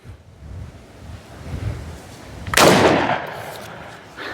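A single sharp shot from a Gökkurt air rifle cracks out over outdoor wind noise, followed by a brief fading rush.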